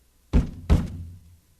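Two heavy thumps in quick succession strike a broken radio set in an old-time radio drama, close and loud, each with a short boomy decay.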